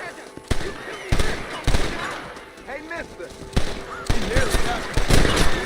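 Sharp gunshots in Red Dead Redemption on Xbox Series crack out irregularly, some in quick pairs, over a dense bed of game noise, with brief background voices mixed in.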